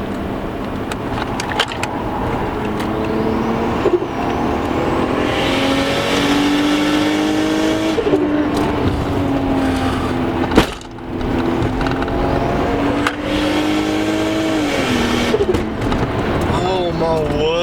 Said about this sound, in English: there's a car coming on.